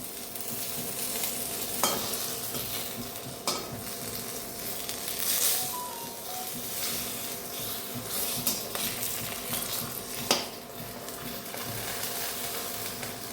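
Fish sizzles steadily in hot oil in a covered pan in a village kitchen, a constant frying hiss broken by a few sharp clicks and knocks of the lid and utensils.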